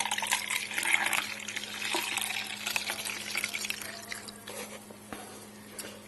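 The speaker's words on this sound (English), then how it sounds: "Now we pour the water. So the reserve lifts up, and you pour it up to the full line." Water is poured into the reservoir of a Hamilton Beach single-serve coffee maker, a close, steady splashing trickle that tapers off toward the end.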